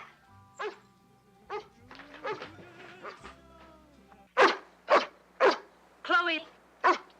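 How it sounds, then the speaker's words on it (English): A pet dog named Chloe barks several times in sharp, loud bursts, close by, following quieter vocal sounds and movement. "Whose dog is that?"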